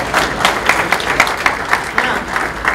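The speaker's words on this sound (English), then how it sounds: "Round of applause for our volunteers." A small audience at a fall and injury prevention session claps for volunteers, a short burst of uneven clapping at close range with no voices over it.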